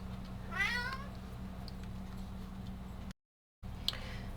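A cat lets out one short meow, close and fairly quiet, over a steady low hum, followed by a brief sharp tick near the end.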